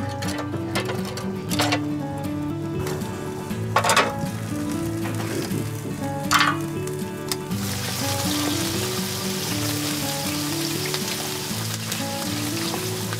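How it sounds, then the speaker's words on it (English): Scallops with a trickle of olive oil and white wine sizzle over embers, a continuous crackling fry under a steady tonal background hum, with a few sharper pops and clatters. "scallops, a trickle of olive oil, white wine, done on embers"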